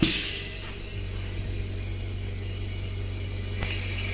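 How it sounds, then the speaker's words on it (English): A vacuum pump on chemical vapour deposition equipment runs with a steady low mechanical hum and faint rattling, continuous and fairly close. "here is the vacuum pump, and you can turn the switch from here"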